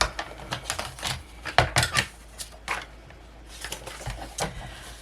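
Scissors cut scrap paper for a scrapbook album, making a close series of sharp, crisp snips and rustles in uneven bursts separated by brief quiet gaps.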